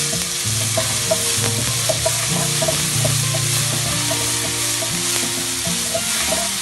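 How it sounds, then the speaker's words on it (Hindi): Whole red chilies, cumin and curry leaves sizzling in hot oil for a tempering, a steady loud crackle and hiss close up with occasional stirring clinks. "साबित लाल मिर्च, जीरा और कड़ी पत्ते का बघार।"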